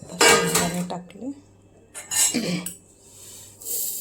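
Roasted, cooled peanuts tip into a mixer grinder jar while making sesame-jaggery laddoos, giving two separate rattling, clattering bursts against the metal, with a quieter clink near the end.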